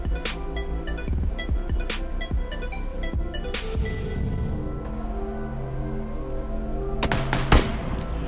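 PUBG gunshots crack as several sharp, separate reports, a few close together, over a steady low hum of game background noise.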